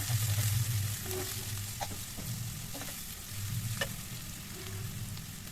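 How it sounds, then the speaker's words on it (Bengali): Chopped onion, about a cup, frying in hot cooking oil in a pan while being stirred, with a steady close sizzle and repeated scraping stir strokes throughout. "তেল গরম হয়ে আসলে 1 কাপ পেঁয়াজ কুচি দিয়ে দিলাম। দিয়ে কিছুক্ষণ ভালো করে নেড়ে চেড়ে ভেজে নেব।"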